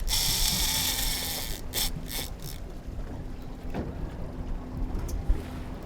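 A fishing reel's ratchet clicks steadily while a wahoo is wound in from a boat at sea, with faint water and wind noise behind it.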